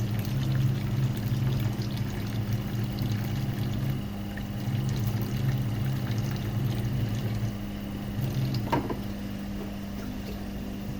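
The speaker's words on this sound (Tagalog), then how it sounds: "buhusan natin ng tubig" Water is poured into a pan of sweet and spicy homemade pork shrimp paste as it cooks. A steady pouring and bubbling wash runs throughout over a low constant hum, with no talking.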